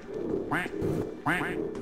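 Ducks quack in the video game Garry's Mod, two loud, close bursts of rapid nasal quacks separated by a short pause.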